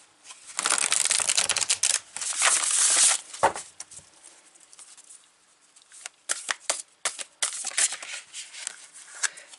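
Affirmation cards being shuffled by hand close up, with repeated papery riffling bursts separated by short pauses.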